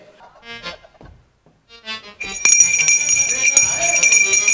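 A theatre stage bell rings before a comedy show, a loud continuous electric ringing that starts suddenly after brief talk and keeps going, bright and sustained.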